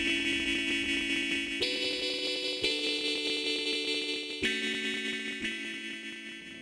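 Looped chords run through a filtering, heavily equalised effects chain, giving a bright, dense, processed tone with held chords that change at several points and a slight pumping swell, with no voices.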